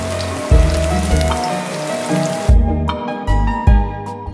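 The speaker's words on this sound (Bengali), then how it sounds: "রসুনগুলি হালকা ভাজা হলে দিয়ে দিচ্ছি কিছু আদা কুচি।" Chopped ginger and garlic spit and sizzle in hot oil, a loud steady crackle that dips into quieter patches with occasional sharper pops, heard up close without speech.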